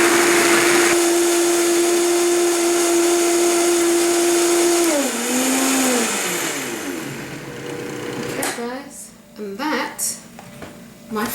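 A kitchen blender whirs loudly as it blends Brazil nuts with water, settling into a steady motor drone that dips in pitch as the load changes, then cuts off into clattering handling noise near the end.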